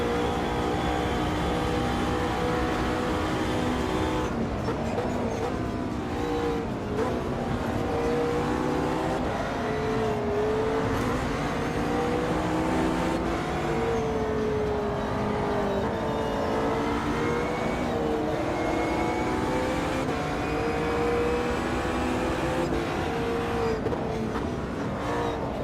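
Race car engines in a sim racing game, a continuous loud engine roar that rises and falls in pitch as the car shifts and brakes around the track, with no talking throughout.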